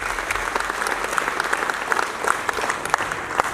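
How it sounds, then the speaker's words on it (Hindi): At the inauguration of a world peace hall in Amritsar, a crowd claps in a steady, enthusiastic round of applause, many hands blending into a continuous roar with a few sharper claps standing out. "जोरदार तालियां बजाएं।"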